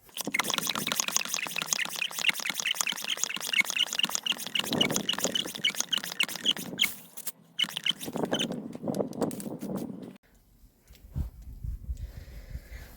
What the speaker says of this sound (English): pump up your sprayer, make sure it's nicely pressurized